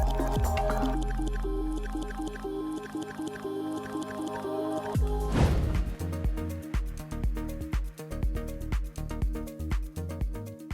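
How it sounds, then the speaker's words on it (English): An ice cream container-filling machine runs through repetitive mechanical cycles, close and steady, with a continuous hum and regular clunks and squishy pulses in a quick rhythm, plus a brief louder surge midway. No one speaks. "Filling ice cream containers is almost an art form."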